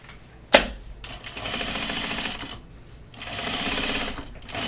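A sewing machine runs close and loud, top stitching a dart on a pair of overalls, in rapid bursts with short pauses between them, opening with a sharp click.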